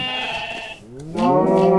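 A Minecraft sheep bleats loudly in the Tropicraft mod, two close, wavering harmonic baas, the second fuller and rising after a brief dip.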